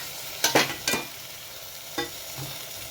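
Chopped potatoes and tomatoes stirred in a frying pan for a potato, broad bean and tomato curry. Three or four scraping spatula strokes sound close, with a soft sizzle between them.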